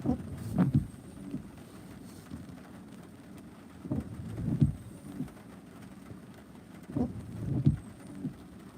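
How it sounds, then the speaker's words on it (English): Steady rain falls on an outdoor football game, a continuous wash of noise with faint muffled thuds and gusts recurring every few seconds. "Rain just is continuing just to be steady."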